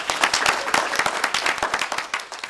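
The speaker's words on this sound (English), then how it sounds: "So give him another round of applause." Brief applause from an audience after a speech critique, close claps in a fairly small group that thin out toward the end.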